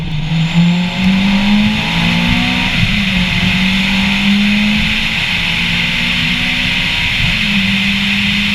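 2004 Honda Civic Type R EP3 engine revving while driving, a loud, close engine note climbing in pitch, dropping briefly and rising again through the gears, with no speech.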